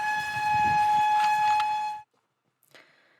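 A propane camping stove gives a loud, steady, high-pitched whistle for about two seconds before it cuts off abruptly, followed by a brief faint rustle.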